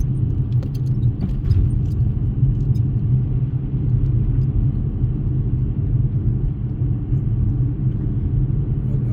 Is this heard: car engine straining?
yes